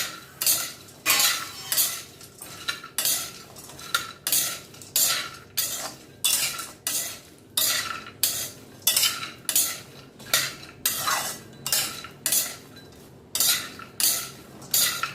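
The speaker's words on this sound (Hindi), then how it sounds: "इसी में हम कद्दू के बीज भी डाले देते हैं। एक साथ ये सब चीज़ें भुन जाएंगी।" Pumpkin seeds and walnuts dry-roasted together in a pan for a homemade jaggery sweet, stirred with a spoon in a steady rhythm of scraping, rattling strokes, close and moderately loud, with no talk.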